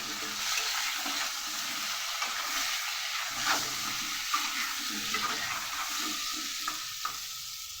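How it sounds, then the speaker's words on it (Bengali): Potato pieces frying in oil with turmeric and salt, a steady soft sizzle with occasional light stirring clicks, close and continuous with no voices. "মধ্যে দিয়ে দেবো সামান্য পরিমাণ হলুদ আর অল্প পরিমাণ নুন দিয়ে আলুটাকে ভালো করে ভেজে নেব"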